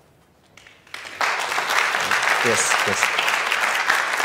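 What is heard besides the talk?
audience applause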